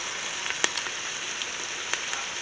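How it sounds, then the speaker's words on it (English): Vegetables sautéing in a pot for pork chop soup give a steady, soft sizzle and crackle with a few sharper pops, close by and with no voices over it. "we're going to saute these vegetables just until they get a little bit"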